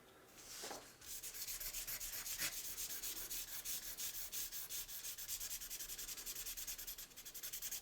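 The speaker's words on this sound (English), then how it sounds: "a little bit of sanding, and we should be good to go" Steady back-and-forth sanding of styrene plastic and putty on a Redline C-Cab fire truck toy car being converted to a paddy wagon; a fine, close, continuous rasping scrub with rhythmic strokes, briefly broken near the start.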